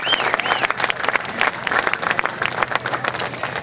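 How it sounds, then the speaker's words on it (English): An outdoor crowd at a Texas Independence Day opening ceremony claps steadily for a young performer, a dense, even patter of many hands with a few louder close claps and a brief whistle near the start. "So give Ridge another round of applause."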